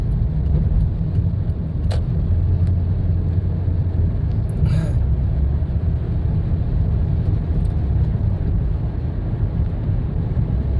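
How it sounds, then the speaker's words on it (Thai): Heavy road traffic on a busy Vientiane avenue at weekday rush hour, a steady low rumble of many passing cars and engines that never lets up, with no voices. "โอ้รถสัญจรหลายอยู่ทุกคนเลย"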